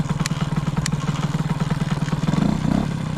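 A small moped engine idles close by, a steady rapid putt-putt pulse with a slight rise in revs near the end and a couple of brief clicks, no talking.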